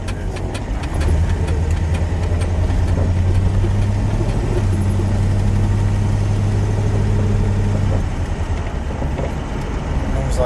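A 1964 Chrysler 300K coupe's engine runs loud and close, a deep steady rumble that swells as the throttle is opened for a few seconds, then settles back toward idle.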